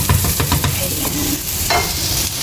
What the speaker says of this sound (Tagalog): nilagay ko na yung sibuyas. Ayan, ginisa-gisa ko na.